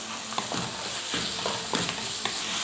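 Green chillies and curry leaves are sautéed in a pan with a soft, steady sizzle, broken by repeated spatula scrapes and stirring clatters at an uneven rhythm.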